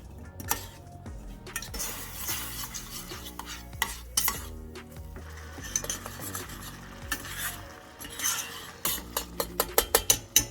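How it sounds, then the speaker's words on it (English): Frozen berries and sugar cook in a pot while a utensil stirs and scrapes repeatedly, rhythmic clinks and scrapes close and fairly loud, growing into quicker, sharper knocks toward the end, with a low bubbling beneath. "Bring to a boil and let simmer"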